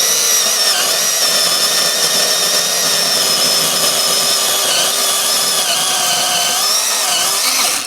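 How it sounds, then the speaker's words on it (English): A small cordless Milwaukee electric chainsaw whines loudly and continuously at close range, its high motor pitch wavering slightly as it bites through wood. "that little chainsaw did the job"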